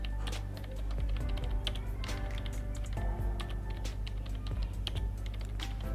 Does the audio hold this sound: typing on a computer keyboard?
yes